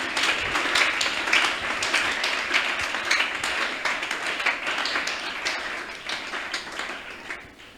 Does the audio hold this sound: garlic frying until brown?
no